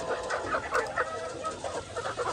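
Chickens clucking in a farm flock of laying hens, a busy overlapping chorus of short clucks and calls close by with steady background chatter and no talk.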